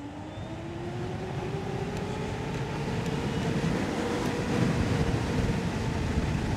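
Stealth Bomber electric bike pulling away at full throttle, a steady rising whine climbing slowly in pitch over loud rushing wind and road rumble, sustained and close throughout.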